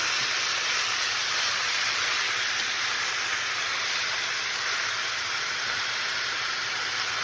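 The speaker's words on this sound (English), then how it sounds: "Hear all that sizzling going there, frying that meat." Loud, continuous sizzling of beef frying in a pan, a dense steady hiss heard close up with no talking.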